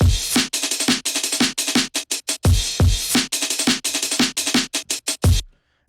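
Drum pattern in an electronic song production, with the original hi-hats reversed so each hit swells in before it cuts off; a loud, steady rhythmic run of broadband hits that stops abruptly near the end.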